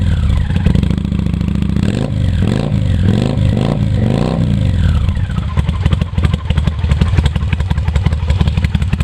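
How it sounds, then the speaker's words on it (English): A Kawasaki Vulcan VN800 motorcycle with debaffled exhaust pipes runs loud and close, its engine rumbling and revving in rising and falling swells before settling into a rough, throbbing idle. "As you can hear, I've debaffled the pipes. To my mind they sound great."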